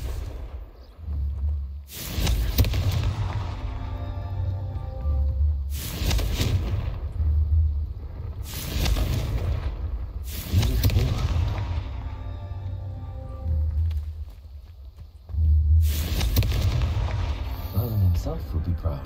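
Confringo, the explosive spell in the video game Hogwarts Legacy, goes off as a run of loud booming blasts, about five heavy bursts spaced a few seconds apart over a steady low rumble.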